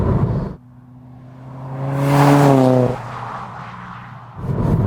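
A Ford Focus RS Mk1 engine accelerates hard up close, its rising, loud revving tone climbing steadily before cutting off sharply, with a lower engine drone around it.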